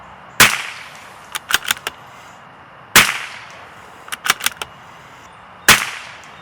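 Three sharp, loud rifle shots from a CZ457 rimfire on a 100-yard range, spaced about two and a half seconds apart, each followed by a cluster of fainter metallic clicks from the bolt cycling, with no talking.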